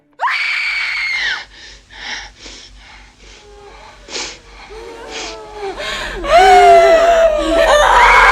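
Screams from horror movies: a sharp, loud shriek opens, followed by gasping, wheezing breaths and shorter cries, then building into longer, piercing screams toward the end.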